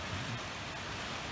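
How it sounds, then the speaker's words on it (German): Rain falling outside a window with a fly screen, a soft, steady hiss of rainfall, faint and continuous, with no talking. "Es regnet und ihr seht nur mein Fliegengitter."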